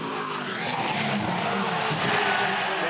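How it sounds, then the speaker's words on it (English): Supercars race car skidding at very high speed toward a wall, a loud broadband rush of engine and tire noise with a surge near the end, close and sustained. "That's a big hit. Serious impact, that one."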